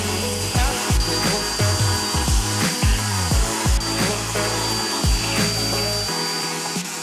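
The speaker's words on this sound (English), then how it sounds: "I'm gonna go vacuum this off" A loud, steady vacuum cleaner motor drone runs throughout, with repeated sweeping swells and thuds as the nozzle is pushed back and forth over a router-cut wooden charcuterie board, cutting off near the end.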